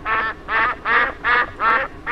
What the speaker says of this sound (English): The quacking is great in this one.